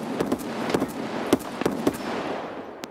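Gunfire in the shooter game Escape from Tarkov during a raid, a handful of sharp reports spaced irregularly over a few seconds, moderately loud with a short echoing tail.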